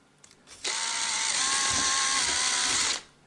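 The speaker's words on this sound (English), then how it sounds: "I'm gonna drill the same holes that I've got already." An electric drill bores a hole in a hollow interior door, a single steady whirring burst of about two and a half seconds at close range, starting and stopping abruptly.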